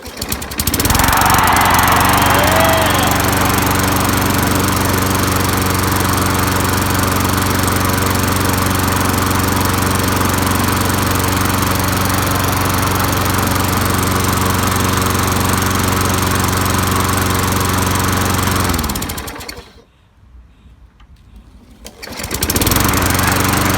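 A Craftsman 22-inch mulching push mower with a Tecumseh engine runs loud and close, holding a steady rough drone for about nineteen seconds, then cuts out briefly before the noise returns.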